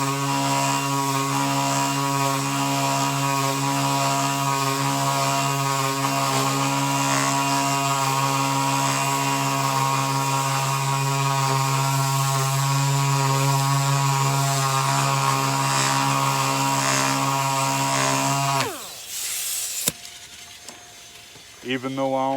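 A power sander runs on primed surfaces with 320 grit paper ahead of an Awlgrip Awlcraft 2000 topcoat, a loud, steady motor whine with a constant hum, close up, continuing for about eighteen seconds before winding down abruptly.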